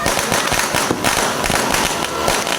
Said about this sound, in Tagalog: Ayun o! May fireworks na no?